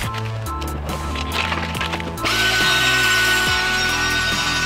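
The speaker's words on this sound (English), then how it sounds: "I'm gonna go ahead and use the 1500 grit." A car headlight lens being sanded with 1500 grit sandpaper, with close rubbing and scraping that becomes a louder, continuous hiss of abrasion partway through, over a humming background.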